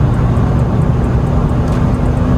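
Ford StreetKa convertible accelerating hard on the Kyiv highway, a steady loud engine drone with heavy road and wind roar, continuous and close throughout.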